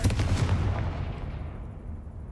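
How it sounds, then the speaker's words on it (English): In Hogwarts Legacy, a Confringo fire spell lands as a loud, booming blast that rumbles and fades away over about two seconds. "Confringo!"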